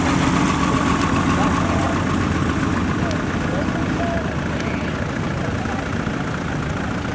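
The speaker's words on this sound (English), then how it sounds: "Got the Bedford tipper just coming around by the main entrance now" A Bedford drop-side tipper lorry drives around the showground entrance at a steam rally, its diesel engine a steady, fairly loud rumble with continuous crowd and outdoor noise underneath.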